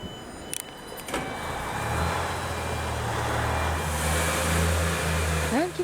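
An HC85 series diesel train's engine restarts at a station after an idling stop, the doors closing before departure, rising into a steady low rumble that holds nearby, with faint voices present.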